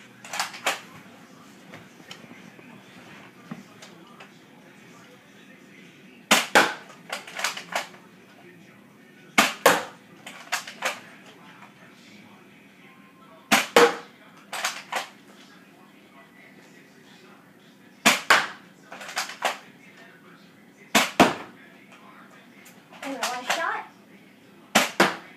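Flip Fire toy gun firing bullets from its rotating barrels, heard as sharp, loud snapping shots in quick bursts of two or three, repeated several times at close range between quieter handling noises and some talk.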